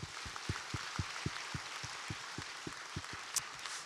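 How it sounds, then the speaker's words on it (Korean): A church congregation at a Thanksgiving service claps together in a slow, even rhythm, about four beats per second, the sharp claps standing out over a soft background hush. "한번 박수해 주시겠어요?"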